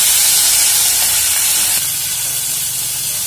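Curry leaves, dried red chilies and tomato pieces sizzle in a pan for semiya upma, a loud, steady hiss filling the whole stretch with no voices.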